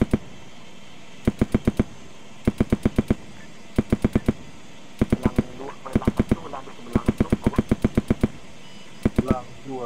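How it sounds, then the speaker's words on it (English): Short bursts of automatic gunfire at an ARMA Malaysia event, crisp evenly spaced shots grouped in volleys of four to six, loud and near, separated by brief pauses with voices speaking between bursts. "firing."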